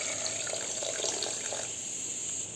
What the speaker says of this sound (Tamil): அதுக்கு 2 கப்பு தண்ணி சேர்த்துருக்குறேன்.